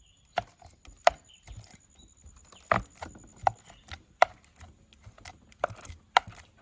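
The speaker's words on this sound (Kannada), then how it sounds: "ಬಾಳೆಹಣ್ಣನ್ನು ಚಂದ ಮಾಡಿ ಹುಡಿ ಹುಡಿ ಮಾಡಬೇಕು" Soft, irregular squishing and tapping as banana is pressed and mashed against a hard surface, about a dozen distinct hits with quiet gaps between.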